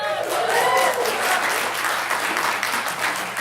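Cinema audience at the Joy Cinema bursts into loud, sustained applause and cheering, dense clapping with whoops and a voice or two rising over it.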